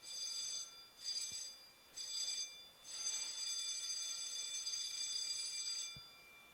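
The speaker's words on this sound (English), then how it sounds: "that alarm that you heard is alarm. It's a drill alarm." A ship's emergency drill alarm rings aboard a research vessel at sea, sounding in repeated electronic bursts with short gaps before settling into a longer continuous ring, moderately loud over steady background hum.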